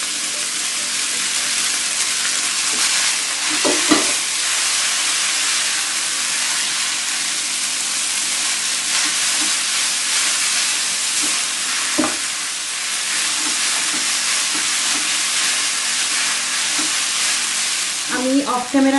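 Noodles stir-fried in a hot pan with sauces, a loud continuous sizzle and hiss running throughout, broken by occasional clinks and scrapes of a utensil against the pan.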